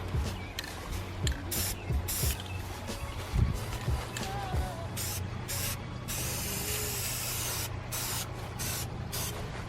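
Rust-Oleum semi-gloss black spray paint is sprayed onto Mercedes-Benz lower grills in a series of short and longer hissing bursts, close and loud, with faint handling noises between them.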